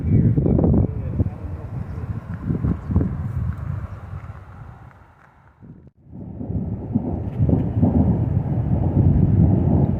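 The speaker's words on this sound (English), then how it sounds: "This thunderstorm up here is making a lot of racket." A mountain thunderstorm near Deckers and Cheesman Reservoir in Colorado rumbles with low thunder and gusting wind buffeting the microphone, a heavy, roaring wash that dips briefly midway and then surges back.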